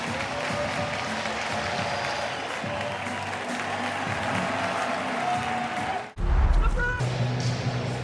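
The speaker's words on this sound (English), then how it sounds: "He'll get a nice round of applause walking off." At a Major League Baseball game between the Twins and Rockies, a stadium crowd applauds a departing pitcher in a steady, broad roar of clapping and cheering, with broadcast commentary running over it before the sound shifts near the end.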